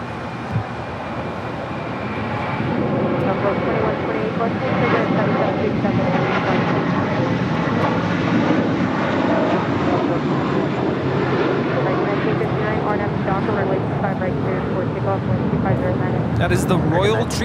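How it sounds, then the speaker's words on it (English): A JetBlue Airbus A321 takes off bound for Boston, its jet engines building to a loud sustained roar that holds steady throughout, with someone talking over the noise. "That is the Royal Treatment, taking off to Boston. JetBlue A321, flight 1388."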